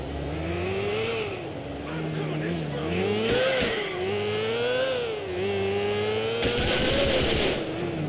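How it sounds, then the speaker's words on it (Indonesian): Gang motorbikes in Grand Theft Auto IV rev continuously, their loud engines rising and falling in pitch, with brief bursts of gunfire-like crackle mixed in. "Mana motor yang berisik banget lagi?"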